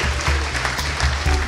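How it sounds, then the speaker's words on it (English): Audience applause at a charity gala evening, dense clapping from a large crowd with a low murmur underneath, loud and continuous for the brief stretch. "please one more round of applause as they leave the stage"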